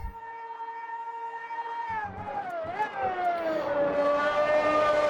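An F1 car engine screams past during a replay in Automobilista 2, a loud, sustained, high-pitched whine that shifts and climbs in pitch as it nears and passes.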